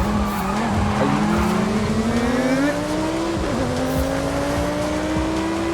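Lamborghini Sesto Elemento in Forza Horizon 5 braking hard on a racing circuit, its engine pitch climbing while tires squeal and skid in a continuous, loud screech.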